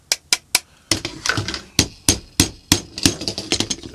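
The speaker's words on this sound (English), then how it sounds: "Now, we then reapply our little punch pin right there." Metal punch pin tapped into the magwell of an HK P30 pistol with a small hammer, a close series of sharp clicks and knocks, first widely spaced then quicker and more irregular.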